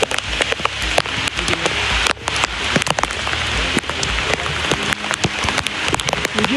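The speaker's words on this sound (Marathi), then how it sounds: "अजून पाऊस पडायला लागला" Rain pours down hard in a dense, close hiss of drops striking surfaces, with sharp individual splats scattered through it and no one talking.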